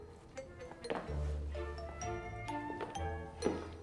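A drink is poured and glasses clink with a few light, scattered tinkles and taps at a quiet level, ringing briefly in an indoor room.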